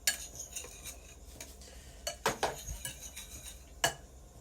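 A utensil stirs flour, brown sugar and other dry ingredients in a bowl, giving faint, close scraping and clinking taps in an irregular rhythm.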